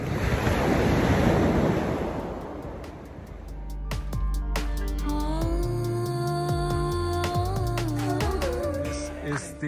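Ocean surf at Bogmalo beach in Goa rushes in loudly and then eases into a softer wash under wind, while clicks and tones sound over the top.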